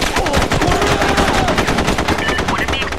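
Loud, continuous automatic gunfire in the PS2 game SOCOM U.S. Navy SEALs Combined Assault, rapid evenly spaced shots hammering close for the full three seconds, with a voice faintly under the shooting.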